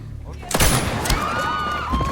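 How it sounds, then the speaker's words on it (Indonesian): Gunfire in an action film as a mercenary fight breaks out, a couple of sharp bursts of shots with ricochet-like whines and debris, loud and near, over a narrator's voice. "dan dia mulai menembak"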